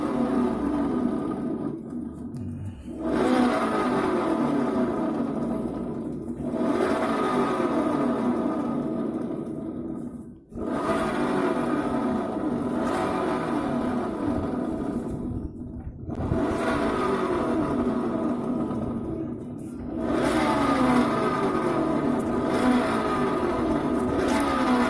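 A Honda Vario 110 scooter being pushed along with a faulty rear wheel bearing gives a continuous grinding, rumbling whir in several long stretches, separated by brief pauses.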